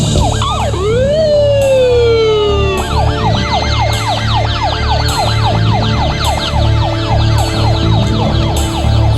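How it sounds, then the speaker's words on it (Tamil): A wailing police siren sweeps up and down in a steady repeating cycle, loud and continuous over a low rumble, with a short rising whoop at the start before the regular wail settles in. "சைரன் சத்தம் கேக்குது"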